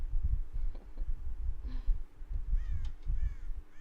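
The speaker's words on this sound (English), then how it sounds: "God damn crows!" Crows caw in the Western video game Red Dead Redemption, with harsh calls breaking out over a low, rumbling outdoor ambience near a farm silo.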